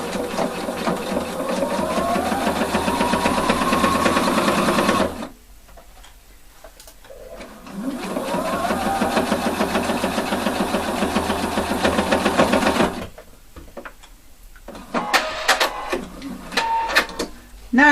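A sewing machine stitching a jeans button fly whirs in two long steady runs with a fast rhythmic needle clatter, close and loud, broken by a quiet pause and followed by a few handling clicks.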